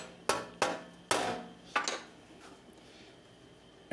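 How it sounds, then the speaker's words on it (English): A steel patch panel for a 1965 Thunderbird is struck with a hammer: about five sharp, close metallic blows at an uneven pace, each ringing briefly before fading, with quiet pauses between. "if I can just hammer a little bit without dinging things up"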